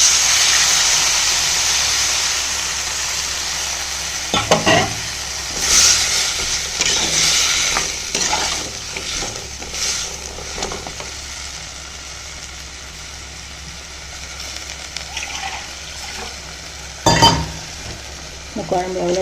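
Tamarind water poured into simmering drumstick sambar in a pan, giving a steady soft hiss and bubbling with a few sharper splashes and stirring clatters, close and moderately loud.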